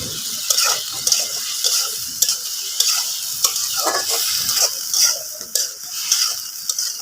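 Green chilies going into a pan of chilli chicken being stir-fried, with a steady sizzle and frying hiss under repeated scraping stirs of the spatula, close and fairly loud, no talking.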